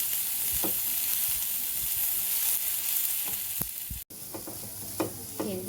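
Ingredients for a Schezwan pizza topping fry in a pan with a steady close sizzle, broken by a few soft knocks of stirring and a brief cut near the end, with no voices.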